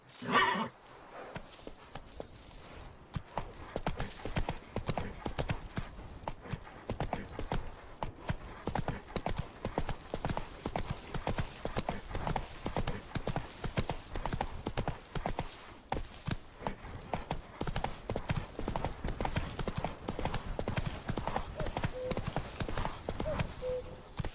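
Roach the horse galloping in The Witcher 3, rapid steady hoofbeats pounding on and on with a whinny near the start, close and continuous, while a voice speaks briefly.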